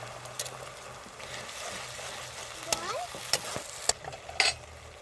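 Tomato paste and ginger-garlic paste fry in a pan while being stirred, a soft steady sizzle broken by a few sharp scrapes and clinks of the spoon, with faint talk.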